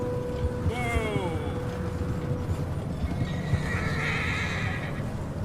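A horse in the video game Red Dead Redemption 2 whinnies with a wavering neigh, its hooves clopping steadily along beneath a rumbling background, with a second high call trailing off later.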